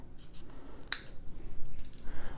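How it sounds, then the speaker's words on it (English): Wire cutters snip off excess wire on a gemstone bracelet in a single sharp click near the one-second mark, close and crisp over a quiet room. "I'm just going to snip off the excess."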